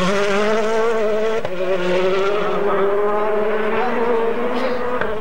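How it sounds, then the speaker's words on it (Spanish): Rally cars at the 2016 Rally Argentina roar past on a dusty, winding dirt stage, a loud sustained engine howl with rising and falling pitch as they pass close by, no talk over it. "Tiembla la tierra cuando pasan los coches,"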